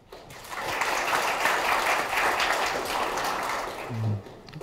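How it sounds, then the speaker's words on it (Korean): Warm, dense applause from an audience greeting professors introduced one by one at a graduate school entrance ceremony, building quickly, holding steady for about four seconds, then fading as a voice begins. "한 분 한 분 소개될 때마다 따뜻한 박수를 부탁드립니다."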